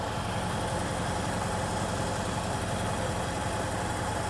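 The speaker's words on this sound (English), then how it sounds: "That's how a rough straight 8 runs." A 1931 Willys straight-eight engine idles nearby, giving a steady, low, even rumble with a soft rhythmic pulse that holds at constant loudness with no voices.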